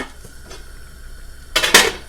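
Quiet background, then a couple of close metallic clanks as a lid is set down on a pot of boiling clams and bottle gourd.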